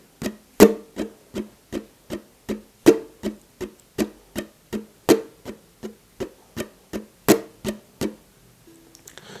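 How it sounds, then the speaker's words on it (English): Ukulele strummed in a repeating pattern of six downstrokes, the fourth hit harder, producing crisp, percussive chord strokes in a steady quick rhythm with regular louder accents, close and alone before a brief quiet tail. "So there are 6 downstrokes and stroke 1,"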